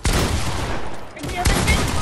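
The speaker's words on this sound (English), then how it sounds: "Oh, he has a drum gun." Rapid automatic fire from a drum gun in the Fortnite video game, a dense, continuous burst of close gunshots running through nearly the whole moment with a brief dip midway.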